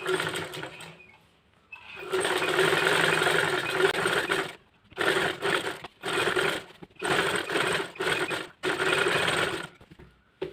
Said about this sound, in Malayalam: എന്നിട്ട് നമുക്ക് ഈ അറ്റത്ത് കൂടെ ഒരു സ്റ്റിച്ച് ഇട്ട് കൊടുക്കാം.